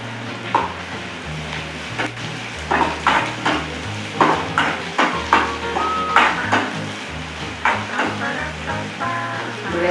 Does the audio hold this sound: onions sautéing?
yes